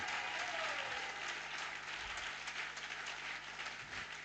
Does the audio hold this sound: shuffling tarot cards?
no